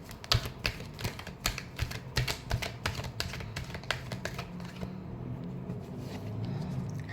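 Tarot cards being shuffled by hand in a final shuffle, a quick run of crisp riffling snaps that settles into a softer, steady rustle, close and fairly quiet with no talk.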